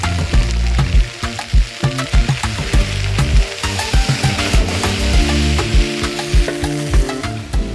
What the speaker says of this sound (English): To the pan, add some cooked potato and some black beans.